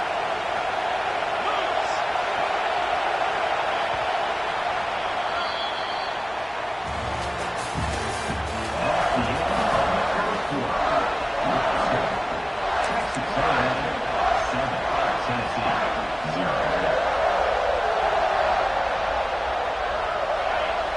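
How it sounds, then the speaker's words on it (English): A home crowd at a Texas A&M college football stadium roars steadily, a broad distant wash of cheering that swells midway while an announcer's voice talks over it. "this home crowd is fired up and ready to make a difference today"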